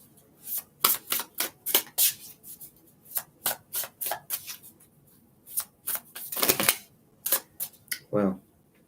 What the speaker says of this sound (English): I just feel like giving a couple shuffles.